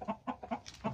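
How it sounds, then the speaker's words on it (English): Chickens cluck close by on a snowy bayou, several quick clucks in a bouncy rhythm, clear and moderately loud with no talking. "let me check on these chickens."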